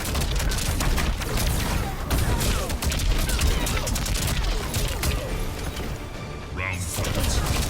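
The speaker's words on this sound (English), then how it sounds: "Sonya Blade calling in air support." An air support strike in the fighting game Mortal Kombat 11, called in by Sonya Blade, pounds as a continuous loud barrage of rapid gunfire, crashes and booms, with a voice heard partway through.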